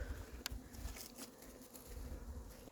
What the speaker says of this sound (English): we're gonna let these bees calm down for just a minute